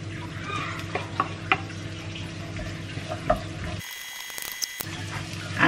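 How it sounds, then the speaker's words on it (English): Ginger and capsicum sizzling and stirred in a hot pan, a steady frying hiss with scattered clicks of a utensil, interrupted briefly by a short silent gap before the sizzle resumes. "so igisa natin itong ginger."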